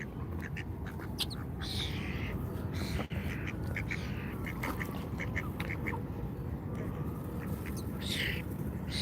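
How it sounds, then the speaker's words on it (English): Loud, dense crow calls, a raucous chorus of cawing and squawking, continuing throughout over steady outdoor background noise. "These crows are being really loud."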